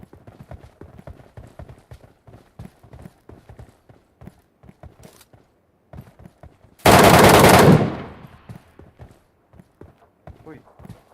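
Sharp gunshots from the PUBG Metro Royale shooter game pop in quick irregular bursts through a quiet stretch, with one loud sustained blast of automatic fire in the middle and a player talking throughout.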